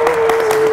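Studio audience applause during a Dutch ice-cream scooping game show, a steady wash of clapping filling the short moment with a few louder bursts, with no talk over it.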